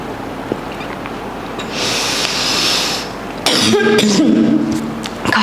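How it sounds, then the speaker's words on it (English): A person coughs sharply around a breath-hold stomach vacuum exercise during handstand press training, a cluster of rough bursts near the end after a stretch of breathy hiss, close and fairly loud. "Coughing is normal, especially when you're carrying a vacuum."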